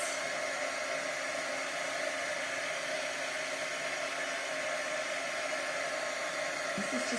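A heat tool blows steadily while melting embossing powder on a rustic card background, a continuous broadband whoosh that holds at an even level throughout, close and alone with no talking.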